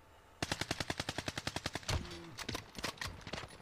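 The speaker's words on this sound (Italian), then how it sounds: "No, mi sparano quelli da dietro, ti prego." Rapid automatic gunfire in the video game Warzone, a fast regular burst of about twenty close shots followed by scattered further shots and game sounds.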